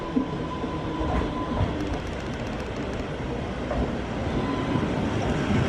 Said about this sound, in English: here comes our lovely little 2-coach unit